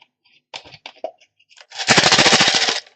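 A homemade shaker filled with lentils rattles up close, a few scattered soft taps followed by one sustained, dense, rapid burst of grainy clatter that stops abruptly.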